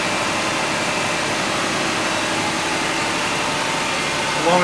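Car engine idling at a steady speed around 1500 RPM during an air-conditioning test on a hot day, a constant broadband hum with no revving, heard close and alone.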